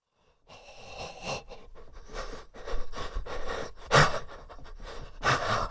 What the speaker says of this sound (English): Like, you can hear the breathing. It's really very disturbing.